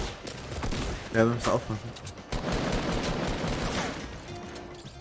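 Gunfire rattles in a Fortnite match as the player takes hits, coming as dense bursts of rapid shots that keep up under a German-speaking voice talking over the action.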